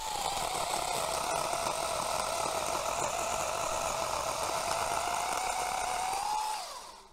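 Cordless Einhell GE-HC 18 Li T pole pruner running steadily as it cuts through a leylandii branch, a loud continuous motor whine with a slight pitch dip under load, then winding down abruptly at the end.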